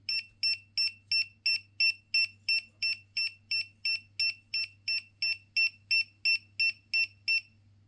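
A steady series of about twenty short, high electronic beeps from a DJI RC Pro 2 drone remote controller, in an even rhythm, evenly spaced and clear, over a faint low hum.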